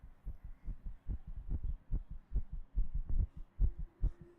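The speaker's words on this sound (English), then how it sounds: "Wind and rising heartbeat." A rising heartbeat from the game Simulacra, a steady run of deep, muffled thumps in paired beats under a low ambient hum, close and even, with no talk.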